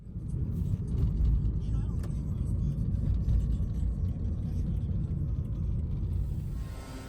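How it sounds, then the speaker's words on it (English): Steady low engine rumble and road noise from inside a moving car on a warm day, continuous and fairly loud throughout with no clear talk. "Let's jump in the car and go."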